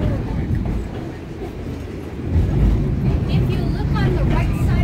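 The Cumbres & Toltec scenic railroad train rumbles steadily along the track, with a loud, continuous low roar and faint rail clatter heard from on board. It runs alone, with no talk over it.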